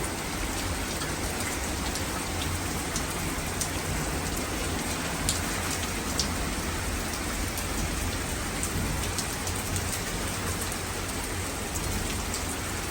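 Heavy night rain in London pours down in a loud, unbroken hiss of dense drops striking surfaces, steady throughout with no speech.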